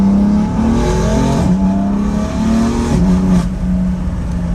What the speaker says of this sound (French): on peut juste profiter du bruit moteur, du bruit des valves ouvertes